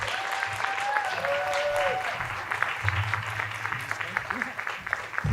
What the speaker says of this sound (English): why don't y'all go ahead and give them a round of applause